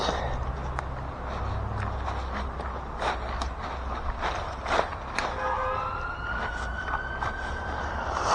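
An ambulance siren wails through a park in Birmingham, its rising and falling tones sweeping past over steady traffic rumble, with scattered footsteps and clicks nearby.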